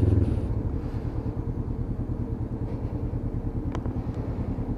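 Honda CB500 motorcycle engine while riding, a steady low rumbling drone with pulsing throb that holds at a constant loud level throughout, with no talk.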